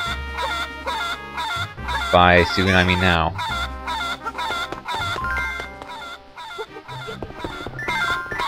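Cuckoo chickens cluck in Zelda Four Swords Adventures, a burst of rapid, stacked clucks peaking over the game's looping village music, with someone talking briefly nearby.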